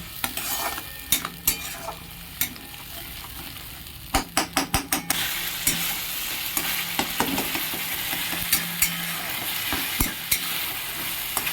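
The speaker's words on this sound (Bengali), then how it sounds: "মশলাটা ভালো করে কষে নেব।" Ground spice paste frying in a pan for a simple egg curry, a steady sizzle broken by sharp clinks and bursts of scraping as a spoon stirs it, close and fairly loud, no voices.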